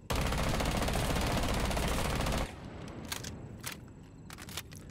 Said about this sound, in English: I'm going to pull the trigger and I'm not going to touch my right stick